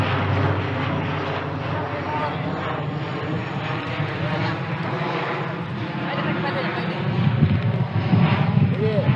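A low-flying airplane passes over a sandbank on the Padma River, a steady broad engine roar with wind buffeting that swells louder toward the end.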